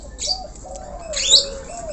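A Nias hill myna, also called jalak Nias, gives a couple of clear whistled calls with a sliding tone and sharp bright accents, close and fairly quiet over a hushed background.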